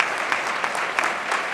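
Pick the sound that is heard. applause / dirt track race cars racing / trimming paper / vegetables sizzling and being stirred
applause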